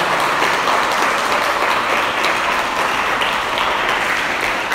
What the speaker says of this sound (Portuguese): só para dar uma animada, dê uma salva de palmas para Jesus